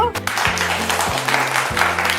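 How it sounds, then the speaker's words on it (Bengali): Steady applause from a crowd fills the clip at a family contest in a jewellery store, with a voice talking over the clapping. "একটা হাততালি হয়ে যাক ওনাদের জন্য"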